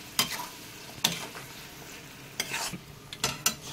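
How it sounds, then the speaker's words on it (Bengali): A spatula stirs lentil paste with spices in a pan, scraping in several sharp strokes over a soft sizzle, with quieter gaps between the strokes. "ডাল বাটাটা দিয়ে দিয়েছি, ভালোভাবে এবার নাড়াচাড়া করে নিচ্ছি"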